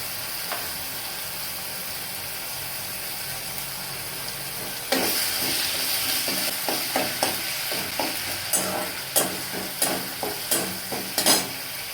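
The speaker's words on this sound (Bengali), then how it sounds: "ধনের পেস্টটা যখন এইরকম ভাজা হয়ে আসবে" Coriander, fennel and cumin paste with chili and ginger paste fries in a pan. A quiet hiss gives way midway to a close, rhythmic run of stirring scrapes over a steady sizzle.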